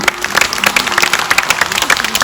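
Audience applause at an outdoor bird-of-prey show in Brittany, a steady patter of clapping from a crowd that runs the whole time with small surges, moderately loud and fairly close.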